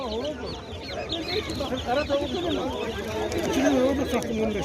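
Dense high chirping from many chicks about 14-15 days old fills a poultry market, cheeping constantly amid market bustle and people talking.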